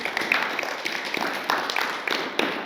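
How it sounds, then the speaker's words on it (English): A small gathering gives a round of applause at a church talk, light scattered clapping at moderate distance, steady for a few seconds. "why don't we give them a little round of applause?"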